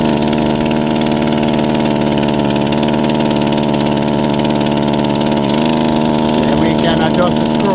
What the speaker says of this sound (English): So we'll just go to full throttle